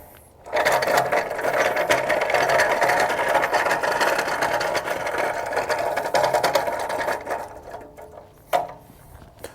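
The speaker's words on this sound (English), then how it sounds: "so let's roll it across the gravel" A Harbor Freight Badlands off-road floor jack is rolled across gravel, its wheels crunching and rattling steadily and loudly for several seconds before clunking to a stop.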